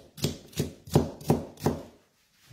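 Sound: knife slicing bell pepper into thin strips

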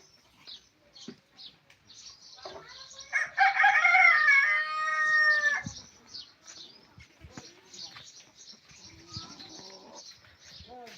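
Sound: roosters crowing

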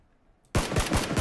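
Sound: gunfire in a video game

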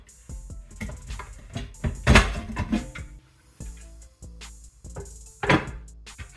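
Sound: corn being put into a pressure cooker

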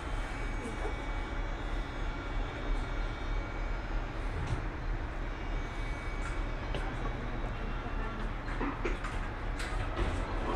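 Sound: Miami Metrorail Orange Line train riding

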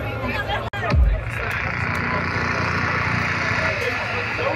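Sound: festival crowd at Drumcode Festival

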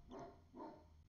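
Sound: dog barking outside the room

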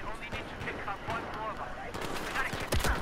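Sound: gunshots in a video game match

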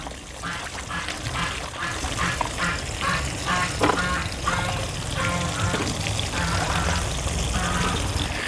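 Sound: washing raw bananas in clean water

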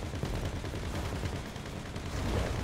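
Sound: gunfire from the video game GTA 5

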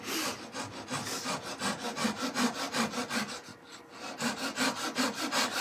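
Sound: small saw cutting wood on a lathe project

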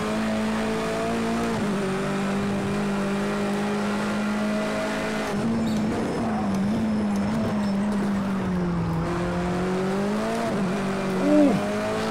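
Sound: race car drifting through a corner in the video game Project Cars 2

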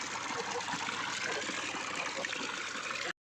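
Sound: water flowing into a well

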